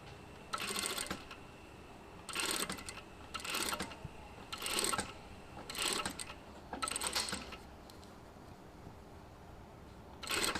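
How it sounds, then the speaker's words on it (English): Sewing machine stitching bias binding onto a raw-edged underarm seam, running in about six short bursts of a second or so each, with brief pauses between, close and moderately loud with no talking. "So just start stitching right from the underarm there."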